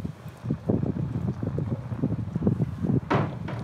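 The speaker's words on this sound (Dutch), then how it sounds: "Ook wind ook vandaag." Outdoor wind at a horse riding stable, blowing as a steady low rumbling buffet with gusty swells and a brief brighter rush near the end.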